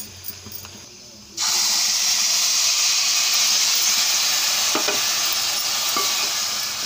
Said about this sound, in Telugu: ఇలాగా పాలు పోసుకొని మొత్తం కలుపుకోవాలండి